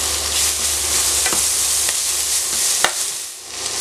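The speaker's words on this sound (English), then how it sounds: "Let it fry." Garlic, cloves, cardamom pods and curry leaves fry in hot oil for a Malaysian-style chicken curry, giving a steady close sizzle with a few sharp scraping stirs of a utensil in the pan.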